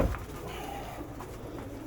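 Pigeons coo at their morning feeding, a steady low burbling chorus that holds at moderate loudness close by, with no talk over it.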